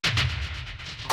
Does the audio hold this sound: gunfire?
yes